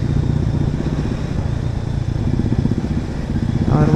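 A group of motorcycles rides past on a foggy winter morning road through the Tamhini Ghat route near Pune, with a loud, continuous engine drone and rumble and a rising rev near the end, close by, with no speech.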